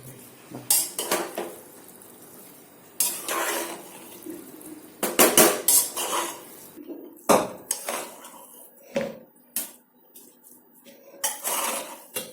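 Masale bhaat rice gets mixed in a metal pot, with irregular bursts of spoon scraping and clanking against the pot, close and fairly loud, separated by short quiet gaps.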